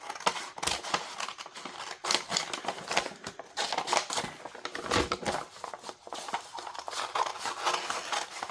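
Scissors snip through a paper bag for a junk journal, giving a quick, steady run of crisp cuts with papery rustle close up and no talk.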